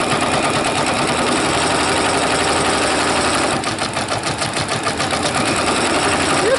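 A Brother Persona PRS100 embroidery machine stitches a monogram on a Vera Bradley bag, a loud, close, continuous rapid mechanical whirring whose rattling rhythm grows more pronounced partway through.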